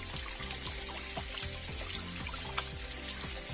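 Water runs steadily from a pipe into a tank on a Portuguese homestead, a continuous close trickling flow that holds at an even level throughout.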